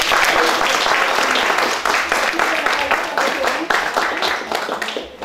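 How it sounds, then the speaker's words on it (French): Audience applause at a welcome gathering in Grande-Rivière, a dense, steady wash of many hands clapping close and loud for about five seconds, easing slightly at the end, with some voices mixed in. "C'est une belle main d'applaudissements pour tout le monde."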